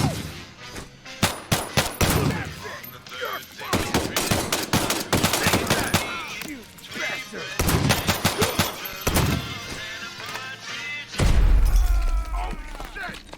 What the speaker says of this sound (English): That grenade was cool, actually. It's a cool effect.